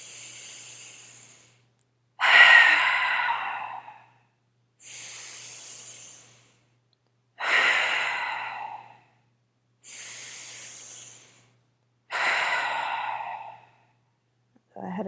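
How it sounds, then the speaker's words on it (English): Slow, deep breaths during a yoga relaxation, drawn in through the nose and released out the mouth, about five long cycles with quiet pauses between, close and clear, with no talking. "Inhaling in the nose, the acceptance, and exhaling out the mouth, all of the attachment"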